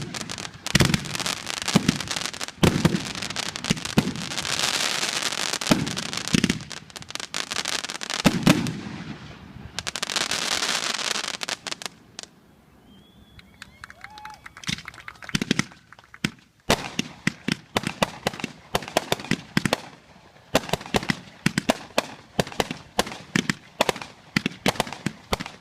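Consumer firework cake at a fireworks event in the rain, launching a long sequence of loud cracking bursts and crackling, a quieter gap midway, then rapid sharp pops and bangs resuming close by with no talking.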